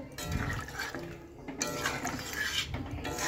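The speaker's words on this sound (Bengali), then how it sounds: "তো এরপরে জল দিয়ে দিচ্ছি পরিমাণ মতো।" Water is poured into a pan for a rohu fish curry with black cumin, a steady close splashing and trickling that swells and eases over a few seconds with no talk.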